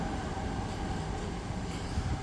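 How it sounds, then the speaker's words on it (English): A train rumbles along a railway line beside Chelsea's football stadium in London, a steady low roar with faint rail noise, fairly quiet and continuous. "Train line running up next as well, which you can hear that."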